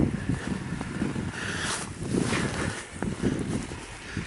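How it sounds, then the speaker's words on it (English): A wind gust during a February nor'easter storm in Leominster blusters across the microphone as broadband rushing noise, swelling and easing in waves over several seconds with no talk. "every now and then we get a little bit of a gust like we're getting now."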